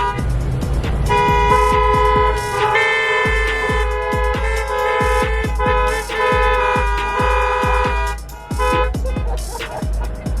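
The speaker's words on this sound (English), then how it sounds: "Everyone was honking" Car horns honk over and over, short toots alternating with long held blasts, loud and close, from vehicles stuck in a slow Christmas lights drive-thru line in Orange County; a dog barks and voices are faint underneath.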